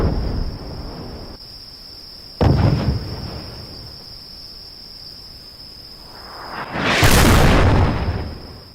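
In a video game, an M57 Pilum missile detonates against the front of a tank: a sharp blast bursts out, then a second, larger rumbling explosion follows, both over a constant high insect-like whine of game ambience.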